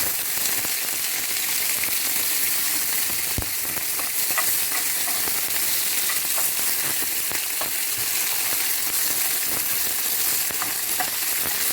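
A ribeye steak sizzles and fries steadily in a pan while being pressed down, a continuous close crackle with scattered pops throughout, no voices.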